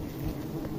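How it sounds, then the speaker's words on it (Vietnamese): Large wild bees swarm around an old, oversized nest being harvested in the forest, producing a steady, close droning buzz that holds unbroken throughout. "con ong nó lớn nè."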